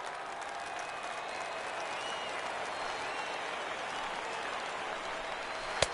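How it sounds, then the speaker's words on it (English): Home crowd in the MLB 19 baseball video game cheering and applauding after a strikeout ends the game, a steady broad roar of clapping sustained throughout, with a brief sharp knock near the end. "the home crowd is loving it"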